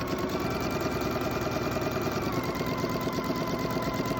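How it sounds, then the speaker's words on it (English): Sewing machine stitching a quarter-inch seam on quilt pieces, giving a continuous, close, even mechanical whir with a fine rapid stitching pulse and no pauses. "I'm going to go over to my machine again and sew another 1/4 inch seam"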